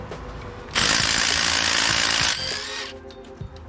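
A power tool zips out the 15 mm alternator bracket bolts on an LS4 V8 engine from a Grand Prix GXP. It gives one loud, close, high whirring burst of about a second and a half, followed by quieter mechanical clatter.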